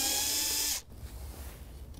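A power screwdriver or drill whirs steadily for under a second while backing a Phillips head screw out of the console trim of a 2013-2018 Toyota RAV4, then cuts off abruptly into quiet room tone.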